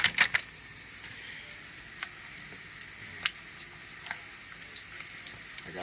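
A schnitzel fries in hot oil with a steady, close sizzle and crackle, joined by a few sharper pops and spits at the start and scattered through.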